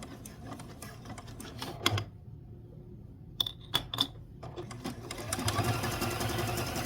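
A sewing machine stitches quilt fabric for an appliqué apple, with short bursts of rapid mechanical whirring and clicking, a brief pause, then a few quick stitches and a longer run, close and clear.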